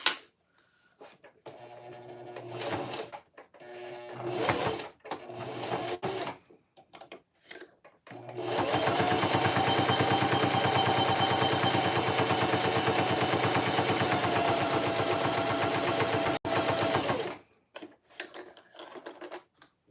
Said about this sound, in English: What Singer model am I sewing on? This is the Singer HD. I believe it's the 4452 maybe.